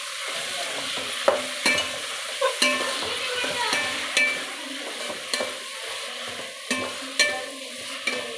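Washed mint leaves frying in a pan for bagara rice, a soft continuous sizzle broken by repeated sharp scrapes and taps of a spoon stirring against the pan, close and fairly quiet.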